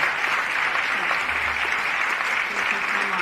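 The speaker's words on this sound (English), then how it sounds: "I just want to give a round of applause for all of these moms here for their courage." Crowd at a Philadelphia town hall clapping continuously, thick and steady applause filling the hall from start to finish, with a faint low hum beneath.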